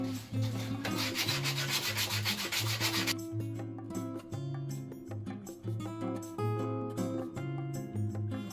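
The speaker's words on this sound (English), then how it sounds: "I'm just going to break the edges on those with some sandpaper" Sandpaper rubs the edges of wooden dowel climbing pegs for a pegboard, giving about three seconds of close, continuous rasping over steady background music that carries on alone afterward.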